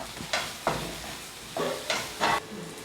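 Sliced onions sautéing with salt in a pan, a soft sizzle broken by five or six distinct scraping strokes of a spoon stirring, close and alone.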